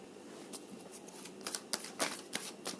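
Tarot cards being gathered and shuffled on a surface, a quiet run of soft papery riffles and taps with several sharper flicks toward the end, close and faint with no talking.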